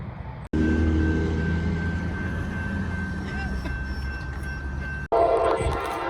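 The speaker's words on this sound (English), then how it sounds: "I'm at the Totten Lane railroad crossing now, and this train is booking" Freight train in Florence, Kentucky passing the Totten Lane railroad crossing near Danville, its horn sounding a long sustained blast over heavy rumbling wheels, close and loud, cut short at both ends.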